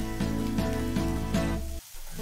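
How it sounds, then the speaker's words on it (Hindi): Finely chopped onions fry in hot oil with bay leaves for a spicy parwal sabzi, giving a close, steady sizzle with soft stirring scrapes that cuts off briefly near the end. "अब हम इस प्याज को गोल्डन ब्राउन होने तक फ्राई कर लेंगे।"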